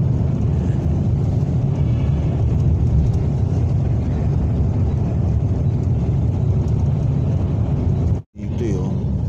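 Steady low rumble of heavy Monday-morning expressway traffic heard from inside a moving vehicle on the way from Santa Rosa, Laguna to Makati, continuous engine and road noise with a brief dropout near the end.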